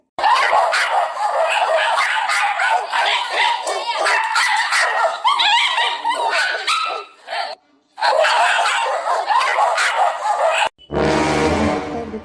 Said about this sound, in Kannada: ಮೇಡಮ್ ನಾಯಿಗಳೆಲ್ಲ ಪೊಗಳ್ತಾ ಇದ್ದೆ